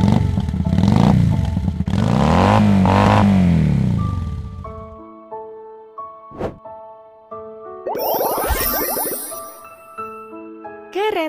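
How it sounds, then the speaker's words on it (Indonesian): In a children's vehicle-learning game, a short engine-like rumble for a motorcycle starts the clip, then a chime-like tinkling melody and a brief rattling burst follow, with no clear motorcycle revving. "Sepeda motor."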